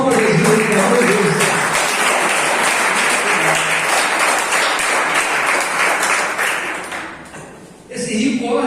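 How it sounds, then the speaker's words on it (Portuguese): A church congregation applauds with sustained, dense clapping that holds loud and steady for about seven seconds before thinning out, as the music and singing return. "Pode dar uma salva de palmas para Jesus"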